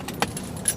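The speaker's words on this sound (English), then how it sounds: "Keys." Keys jangle close by beside a Welland Canal lock, a few quick metallic clinks in under a second over a steady outdoor background.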